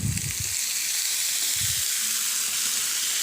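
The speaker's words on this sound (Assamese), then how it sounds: "এইখিনিতে অকণমান সময় মিক্স কৰি ভাজি ল'ম মই এয়া কাটি থোৱা চব্জিখিনি এড কৰি দিছোঁ" Chopped vegetables fry in a pan with Kashmiri red chili powder, a steady close sizzle and hiss broken by a few soft low thuds of stirring.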